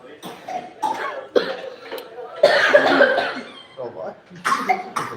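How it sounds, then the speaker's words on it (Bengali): Several bursts of harsh coughing triggered by fumes from frying chilies come close to the microphone, with people talking in between. "লঙ্কা ভাজার কাশি এটা সর্দি কাশির কাশি না"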